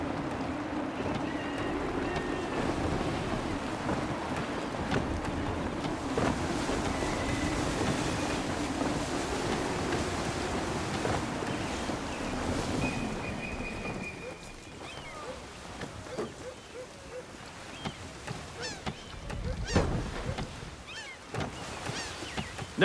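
Sailing ship at sea in gusty wind in Assassin's Creed 3: steady broad rush of wind and water with creaking and flapping, a few brief tonal calls, then quieter with a louder gust or splash near the end.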